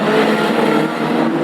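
Hot rod race cars at Lochgelly, including a Vauxhall Chevette, roaring past neck and neck with a loud, steady mid-pitched engine drone that lasts only a moment.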